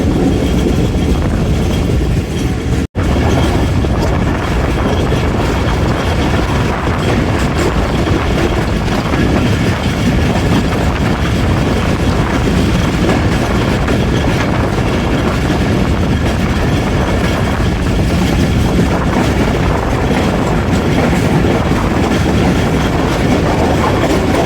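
The Awam Express passenger train running from Rawalpindi to Lahore, a loud steady rumble of wheels on rails with rhythmic clickety-clack and wind rush, heard from on board for the whole stretch.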